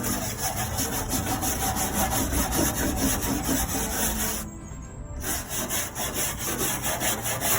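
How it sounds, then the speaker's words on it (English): Dirt is swept with a steady scratchy brushing across the floor of a 1975 Ford E100 van, continuous and close, with a brief pause near the end and no voices. "just sweep all the dirt out this way."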